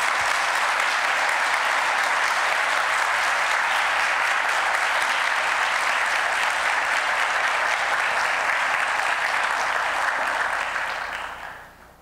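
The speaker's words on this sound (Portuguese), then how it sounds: "vocês devem mais um aplauso para o Farias" Sustained, dense applause from a seated audience at a physics talk in São Carlos, loud and even for about eleven seconds before quickly fading out.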